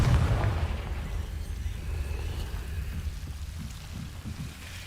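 A Confringo fire spell explodes in the Hogwarts Legacy video game, a deep booming blast at the start that rolls into a low, rumbling tail.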